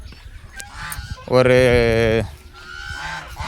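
Farm turkeys give a loud, nasal honking call at close range lasting about a second, with quieter clucks and a brief spoken word around it.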